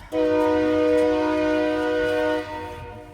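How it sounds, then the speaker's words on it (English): A train horn sounds one long, loud, steady blast of layered harmonic tones, close by, lasting about two and a half seconds before cutting off and fading, with no talking over it. "That's why he's blowing that horn."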